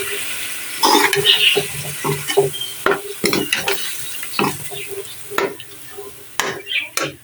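Chicken karahi with tomatoes and karahi masala stirred in a wok, with a soft sizzle under repeated scraping and clattering strokes at close range, plus some watery sounds.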